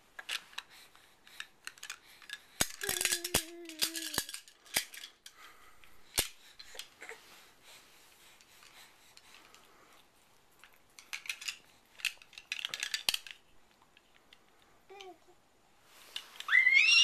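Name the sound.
baby handling keys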